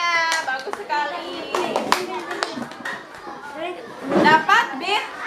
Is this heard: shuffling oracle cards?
no